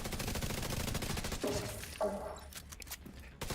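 Turret gunfire in a video game comes as a rapid stream of close, rattling automatic shots, then breaks into a few scattered bursts and fades toward the end.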